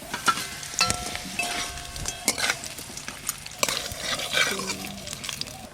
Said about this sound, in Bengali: এবার মশলা দিয়ে ভেজে রাখা ফুলকপিগুলো দিয়ে দেব।